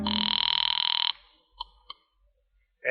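An old telephone bell rings once in a loud, fast, buzzing burst, followed by a couple of faint clicks and near silence, in the setting of a radio drama.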